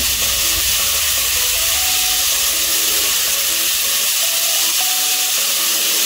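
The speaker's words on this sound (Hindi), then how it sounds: "अच्छी तरह भूनें, भूनते जाएं अच्छी तरह।" Ingredients for noodles are sautéed in a pan, giving a loud, steady hiss and sizzle with faint scraping underneath, continuous from start to finish.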